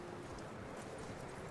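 Horse hooves clip-clopping in the video game Red Dead Redemption 2, a faint, quick run of steady hoofbeats under low background noise.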